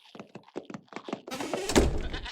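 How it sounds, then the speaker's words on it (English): A goat bleats in a series of short, close, wavering cries, followed by a louder burst of thumping and rustling noise. "There's a goat in here!"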